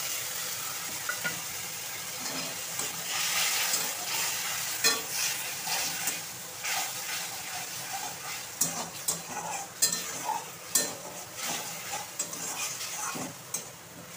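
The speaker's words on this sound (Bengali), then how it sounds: "পেঁয়াজটা লাল লাল করে ভাজা হয়ে গেছে।" Onions browning in a pan with a mustard-cumin paste for a bhola fish curry sizzle steadily close by, broken by sharp scrapes and clinks of a spoon stirring against the pan.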